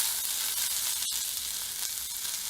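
A large onion fries in hot oil for a Maharashtrian katachi amti, making a steady, close, hissing sizzle that holds evenly throughout with no talk over it.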